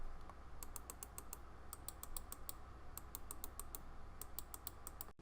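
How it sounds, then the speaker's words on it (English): Sharp, clicky presses on the left and right buttons of a cheap plastic computer mouse, coming in quick bursts of rapid clicks with short pauses between, close and distinct against a low steady hum. "The left click and right click are actually surprisingly satisfying and clicky, sounding like this."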